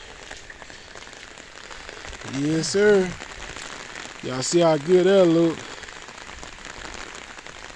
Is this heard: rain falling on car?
yes